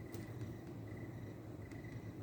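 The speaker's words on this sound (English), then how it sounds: "Listening to crickets." Crickets chirping at night, a faint thin trill repeating in short pulses over a low rumbling background hum, distant and quiet with no voices.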